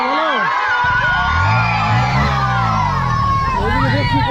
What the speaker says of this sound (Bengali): ওইদিকে দেখছি প্রচুর ভিড়।